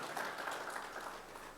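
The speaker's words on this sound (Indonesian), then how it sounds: "Mari beri tepuk tangan yang meriah bagi Tuhan kita." A congregation claps during a church worship service, a steady wash of applause held at a fairly quiet, distant level without a break.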